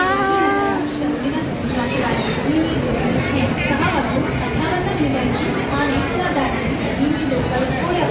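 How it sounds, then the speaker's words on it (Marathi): A crowded passenger train pulls into the station, with wheels squealing and a loud steady rumble as it arrives while a busy crowd of people chatters nearby. "ट्रेन आलेली आपली ही वाली."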